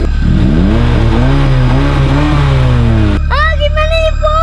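A car engine revving on its own, loud and close with a rising and falling tone over a constant low drone, then switching abruptly to a higher-pitched whine near the end.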